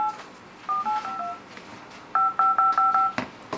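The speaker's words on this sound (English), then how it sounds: "when you dial, you can hear that there is a dial tone" Telephone dialing tones from a ZTE Geek V975 phone: a few short two-note beeps, then a quicker run of about six evenly spaced tones, clear and close against a quiet background.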